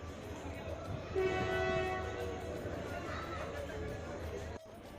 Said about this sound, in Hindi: फाइनली मेरी ट्रेन आ चुकी है।